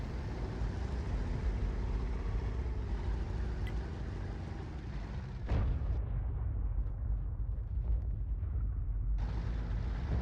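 Artillery shells explode in a naval video game, heard as a heavy, continuous low rumble with one sharp blast partway through, loud and close with no voices.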